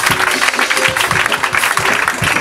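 A church congregation claps and cheers together in praise, a dense, loud wash of applause with rhythmic hand claps running throughout.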